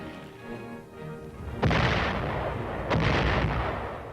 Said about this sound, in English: Mortar fire is one of the infantryman's greatest enemies